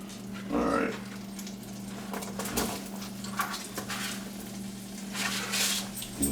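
Garlic and diced onion fry in a pan for a cheesy shrimp risotto, giving a soft, steady sizzle with occasional stirring clatter over a low background hum.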